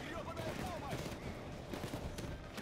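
Desert Eagle pistol fire in the game Payday 2, dense and continuous shots blending into a loud, busy gunfight, with a voice speaking over the noise.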